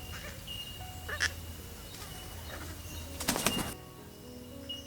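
A male gang-gang cockatoo in the wild gives a couple of short, scratchy, creaking calls, the louder burst near the end, over a quiet outdoor background.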